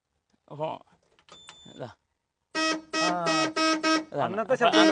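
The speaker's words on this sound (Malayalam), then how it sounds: "നമുക്ക് ഹോൺ വരുന്നത് ഹോൺ ഇങ്ങനെ ഞെക്കി കഴിഞ്ഞാൽ" After a few spoken words, the original old horn of a jeep honks four times in a quick, even rhythm, then voices continue.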